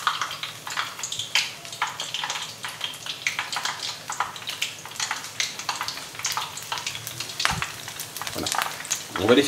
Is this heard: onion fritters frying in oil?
yes